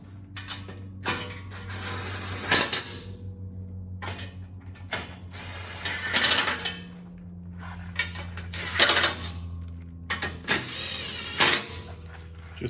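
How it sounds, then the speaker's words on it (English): Steel bolts being fitted into a 700-grade steel bash plate under a Toyota Hilux Vigo, with metallic clinks, ratcheting and rattling in irregular bursts against a steady low hum, fairly close. "Let's get the bolts in it"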